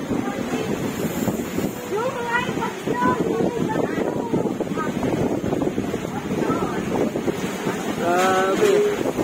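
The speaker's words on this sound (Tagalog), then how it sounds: "Naririnig niyo yung hangin." Strong, continuous super typhoon wind roars and buffets the microphone throughout, with a person speaking over the gusty rush.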